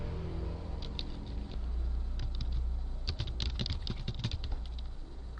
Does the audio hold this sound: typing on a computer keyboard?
yes